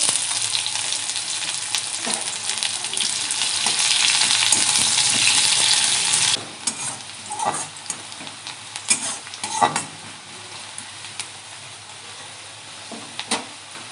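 Chopped onion hits hot oil already tempered with bay leaf and dried red chillies, a loud, bright sizzle for several seconds that then drops sharply into quieter frying broken by scraping stirs and clinks of a spoon.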